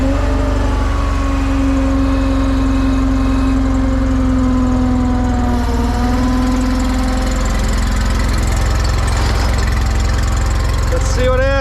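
Small engine on newly bought snow equipment idling after a cold start without choke, a loud, steady, close rumble with a droning tone that wavers slightly and holds throughout.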